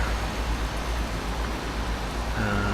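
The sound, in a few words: rain in the Euro Truck Simulator 2 video game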